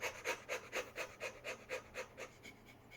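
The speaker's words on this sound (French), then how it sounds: "Cette respiration rapide, elle va être de cette nature" A person demonstrates a rapid breathing technique, a quick even series of about a dozen short, faint, breathy pants that fade slightly toward the end, with no speech.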